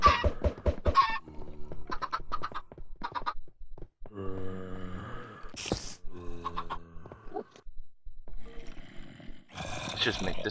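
Chickens cluck and squawk in Minecraft, a dense crowd of blocky game-bird calls stacking over each other, loud and continuous, mixed with bursts of game noise and a voice talking over it.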